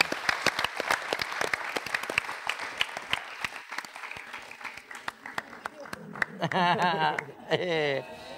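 Applause on an Indonesian TV variety show, a steady run of sharp claps near and clear, thinning out toward the end as voices come in over it.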